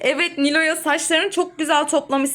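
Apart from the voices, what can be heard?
None of the usual background noises is heard.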